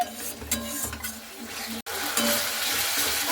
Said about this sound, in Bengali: মশলাটা খুব সুন্দর করে কষানোর চেষ্টা করবেন